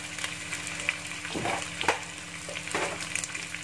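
Butter chicken pieces and seasonings being stirred in a frying pan, a continuous sizzle broken by scraping and clattering strokes of the spoon at a moderate, close distance, with no one talking.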